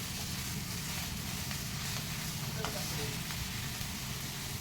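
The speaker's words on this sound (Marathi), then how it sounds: "ती घातलेली डाळ घालून परत एकदा छान हलवून घ्यायची" Soaked moong dal stirred into fenugreek (methi) bhaji in a pan, a steady broad sizzle and frying hiss with faint scraping of the spoon, continuous and close throughout.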